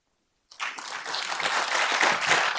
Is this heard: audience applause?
yes